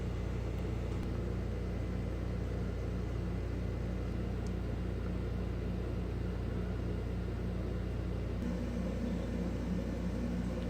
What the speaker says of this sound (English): taxiing to the gate.